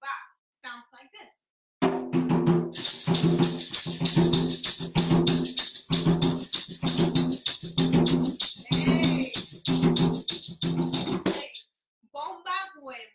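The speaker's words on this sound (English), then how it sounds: "Bomba yuba sounds like this." Bomba yubá rhythm on drums at a family Saturday bomba dance event, a loud, steady, driving pattern of repeated hand-drum strikes lasting about ten seconds, with brief talk just before and after.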